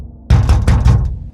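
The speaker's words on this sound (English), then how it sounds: "he would knock on your door" Four loud, heavy knocks land on a door in quick succession, close and resonant, followed by a short decaying tail with no talking.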